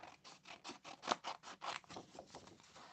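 Scissors snip through a stamped paper image at a craft table, a close, quiet run of rapid crisp cuts in an uneven rhythm, about a dozen strokes with no talking.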